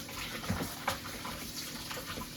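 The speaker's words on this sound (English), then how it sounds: "I put it back under the sink and rinse it off" Kitchen sink tap running as lemon-cleaned chicken pieces are rinsed for Jamaican curry chicken, a continuous close splashing water stream with small spatters and clinks.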